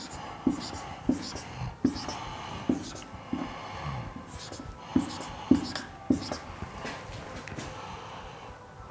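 Pen or pencil writing a maths sum on paper, with a run of scratchy strokes and soft taps close by at an uneven rhythm, while faint whispery breath or background noise sits beneath.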